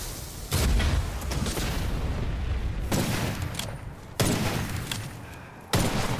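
Sniper rifle gunfire in the video game Witchfire: loud, booming shots cracking out one after another at steady intervals, each trailing into a rumbling echo and layered with heavy in-game combat noise.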